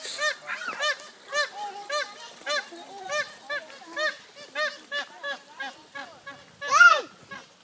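Waterfowl honking and quacking in a rapid, irregular series of nasal calls, close by, with a louder squawk near the end and faint voices of a father and child.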